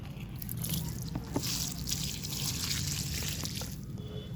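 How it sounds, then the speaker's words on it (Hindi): Water is poured by hand into a container of cow dung compost in a small home garden, a steady soft trickle and splash that runs unbroken throughout, fairly faint, with no speech. "तो देखिए मैं इसमें पानी डाल रही हूँ।"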